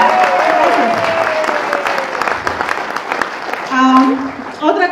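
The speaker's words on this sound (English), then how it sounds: "So please give a big applause." A crowd at a network launch and award event in Las Vegas applauds, steady clapping heard under a voice speaking over it.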